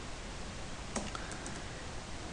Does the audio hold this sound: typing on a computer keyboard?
yes